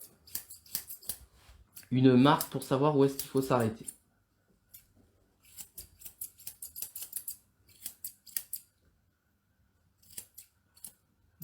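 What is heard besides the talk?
trimming dog's paw hair with Nikos Scorpion Blacksmith scissors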